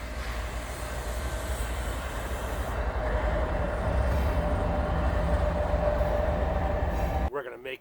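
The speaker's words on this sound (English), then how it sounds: "we're gonna wait for the trains" Train cars rolling past outdoors on a cold day, a steady loud rumble with clattering and rail squeal lasting several seconds before cutting off abruptly, with brief talk at the very end.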